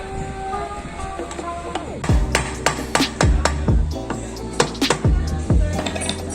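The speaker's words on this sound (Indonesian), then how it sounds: "kita menggunakan palu dengan bantuan kayu sebagai alasnya untuk merekatkan casing tersebut" A hammer striking a wooden block to seat a rice transplanter gearbox casing, a series of sharp ringing metallic knocks, loud and close, roughly every half second with short pauses.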